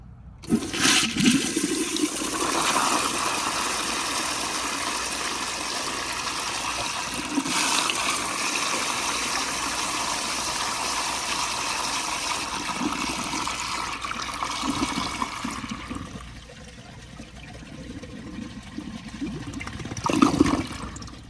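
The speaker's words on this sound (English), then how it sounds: "I gave it another flush just to show you." American Standard Colony toilet from 2000 on a flushometer valve, flushing with a loud, close rushing surge of water that holds for about fifteen seconds, then tapers into a quieter trickle and refill.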